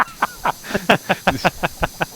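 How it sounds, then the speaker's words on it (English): A pressure washer sprays in PowerWash Simulator, firing about ten short, hissing bursts in a quick, even rhythm, fairly loud and close, with no talk over it. "Hey, what are you doing spraying?"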